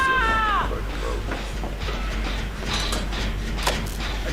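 A goat in the Back 4 Blood game gives one short, descending bleat at the start. A steady low rumble and mixed in-game background noise follow.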